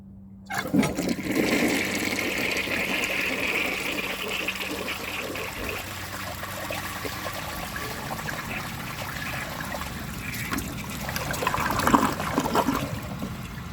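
Flush of a 1968 Peerless toilet with an unglazed, large trapway, sending a bag down: a loud, close rush of water starts abruptly, then settles into swirling and trickling refill water that keeps running to the end.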